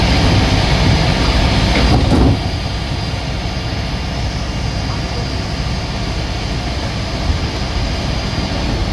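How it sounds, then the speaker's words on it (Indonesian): The Pasundan New Generation passenger train departs from Ciamis station in a loud, steady low rumble and broadband roar, with a brief surge of noise near the start. "Nah, ini berangkat duluan ya Pasundan yang menuju ke arah Surabaya."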